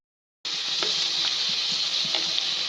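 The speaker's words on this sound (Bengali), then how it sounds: "আলু ফ্রাই করতেছি।" Potatoes for prawn biryani drop into hot oil and fry with a sudden loud, steady hiss, joined by a few faint taps and stirs against the pan.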